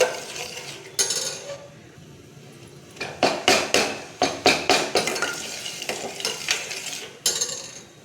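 A spoon scrapes and clinks against a metal pot while jaggery is stirred into water, with a quick series of sharp, close metallic knocks and scrapes separated by quieter pauses.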